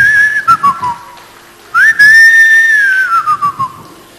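A man whistles a melody in the background of a Tamil song, two long sliding whistled phrases, clear and close, with soft percussion beneath and no talking.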